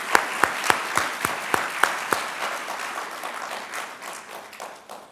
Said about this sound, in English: thank you for our saxophonist. That was amazing. Let's give him another round of applause.